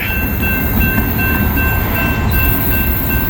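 A train rumbles past up close, a steady heavy roar with low rolling noise and a faint high whine running throughout.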